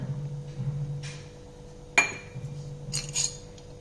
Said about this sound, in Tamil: ஒரு சட்டி அடுப்பில் வச்சு எண்ணெய் ஊற்றிக்காங்க